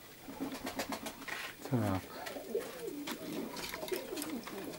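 Nikolaev pigeons coo in soft rolling, throaty phrases close by, one fuller coo standing out midway, while someone says a single word near the start.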